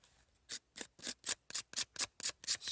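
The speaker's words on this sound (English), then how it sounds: "Scrape off just a little bit more." Knife scraping shavings off water birch wood to make fire starter outdoors, a series of about ten sharp rasping strokes in a fairly even rhythm, close and distinct against a quiet background.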